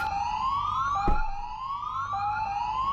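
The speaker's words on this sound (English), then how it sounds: "They also do the tsunami warning system testing. That was also at 10, so we heard the sirens go off." A tsunami warning siren test in New Zealand wails in repeated rising sweeps, loud and steady, with a single dull thump partway through.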